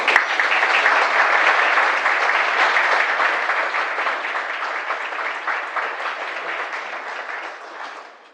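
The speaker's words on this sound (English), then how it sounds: "get a round of applause again from the audience" Sustained audience applause at the EnVision 2018 SEE project presentation, a dense, steady wash of many hands clapping that holds loud throughout and tapers slightly toward the end.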